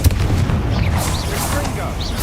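A Confringo fire-blast spell bursts in Hogwarts Legacy combat, a loud, rumbling explosive boom with crackling debris that fills the whole moment without pause.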